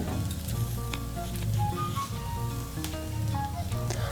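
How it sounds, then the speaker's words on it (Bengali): Green peas sizzle and fry in a pan after a spoonful of roasted spice mix with dried chilli goes in, with a steady close crackle, soft stirring scrapes and occasional clinks throughout. "এখন মটরশুঁটির জলটা শুকিয়ে যাওয়া পর্যন্ত আমি মটরশুঁটিটাকে ভালো করে ভেজে নেব।"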